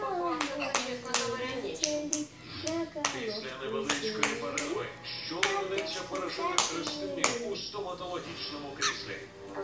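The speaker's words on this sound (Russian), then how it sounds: "Ну покажи еще раз, как ручками хлопать" A child claps hands in a patty-cake game taught by an older sister, sharp irregular claps mixed with sing-song speech and chanting voices close by.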